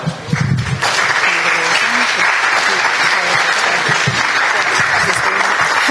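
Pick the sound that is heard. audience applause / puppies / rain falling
audience applause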